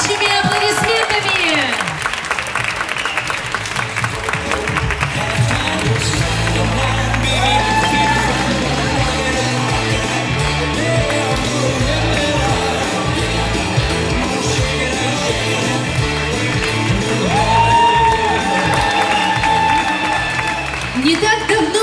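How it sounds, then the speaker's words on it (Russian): An outdoor crowd at an open-air pro-am ballroom dance event in Kyiv applauds and cheers after a performance, producing loud, continuous clapping with whoops and shouts, while voices also carry over the ovation. "Давайте поддержим их несмолкающими аплодисментами."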